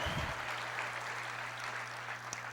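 Congregation applause during a Portuguese-language Easter Passover sermon, a steady wash of clapping that starts with a short louder burst and continues evenly at moderate volume, with a low steady hum underneath.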